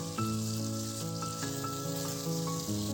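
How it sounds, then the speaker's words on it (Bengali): A fish head coated with turmeric and salt fries in hot oil, giving a soft continuous sizzle beneath a sustained tonal hum, with no talking. "মাছের মাথার সাথে হলুদ আর লবণ মাখিয়ে তেলে ভালো করে ভেজে নিচ্ছি"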